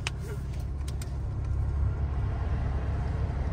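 A 2023 Cadillac CT4-V Blackwing Watkins Glen Special Edition pulls away, a steady low engine rumble rolling along at close range in hot, sunny Florida conditions, with faint road noise and no talking.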